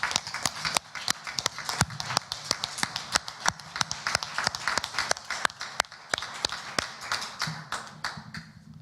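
Graduates and guests at a university graduation ceremony clap in a standing ovation, with many sharp individual claps in a quick, uneven patter, moderately quiet and unaccompanied by talk.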